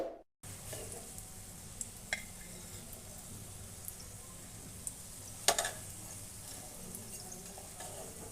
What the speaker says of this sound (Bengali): সময় নিয়ে ওপাশ কিন্তু লাল করে ভেজে নেব।